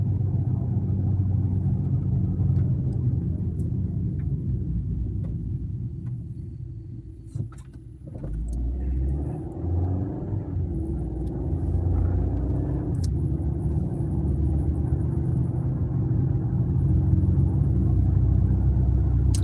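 Steady low engine rumble and road noise from a car cruising along, continuous and close throughout, with a brief dip in loudness partway through.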